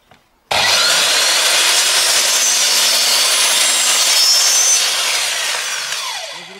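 A Zubr "Master" miter saw cuts through wood at a 45-degree angle: a sudden loud start, then a steady, harsh, continuous sawing roar for about six seconds that fades slightly toward the end, with no talking.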